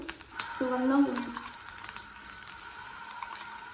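Ginger paste sizzles steadily in hot oil in a pan as it is stirred, with a brief louder burst of frying near the start before it settles into a quieter, even crackle.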